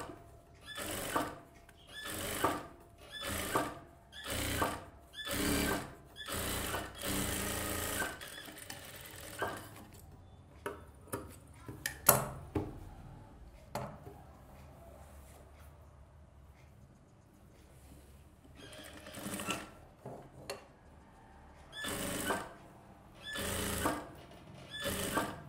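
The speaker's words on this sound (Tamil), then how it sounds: "அதை அப்படியே மடித்து தையல் போட்டுருங்க" Sewing machine stitching silk fabric for a baby's skirt and top, running in quick repeated bursts with short pauses, loud and close, a quieter stretch of handling noise in the middle before the whirring bursts return.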